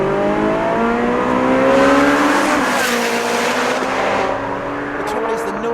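A Ferrari 458 Spider's V8 engine revs loudly and close, its pitch climbing and falling through sustained high-revving sweeps before easing off near the end.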